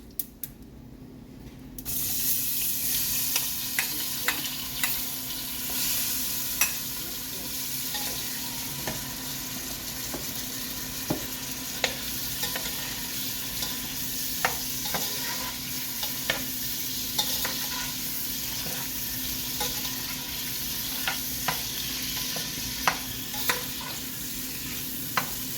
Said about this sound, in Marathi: परतून घेते अननस थोडं.